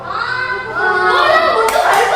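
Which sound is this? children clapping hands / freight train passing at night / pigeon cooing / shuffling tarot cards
children clapping hands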